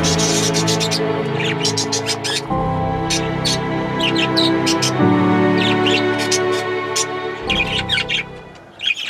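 Budgies in a breeding birdroom chirp and twitter in bursts of high chatter over a steady droning background hum.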